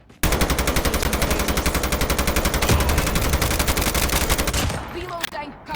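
Automatic gunfire from Call of Duty: Mobile, a battle royale game, rattles in one long, rapid, relentless burst, loud and close, then cuts off near the end.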